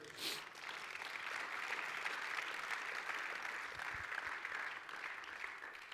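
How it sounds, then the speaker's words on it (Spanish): A church congregation claps steadily and loudly, a dense wash of applause that swells briefly at the start and holds to the end. "Dele palmas al Rey"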